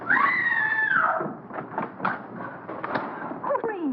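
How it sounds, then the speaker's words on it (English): Muffled pounding thuds against walls mix with a high, drawn-out scream in a horror comedy film scene, loud at the start and then fading into irregular knocks and rustling commotion. "What's all the racket? Pounding on walls, scream?"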